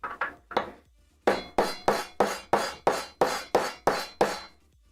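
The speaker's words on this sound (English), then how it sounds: "Hammer. It's hammer time." Repeated hammer blows during a Voron 2.4 3D printer rebuild, striking a clamp in the workshop: two quick hits, a short pause, then a steady run of eight loud, evenly spaced knocks, close and free of talk.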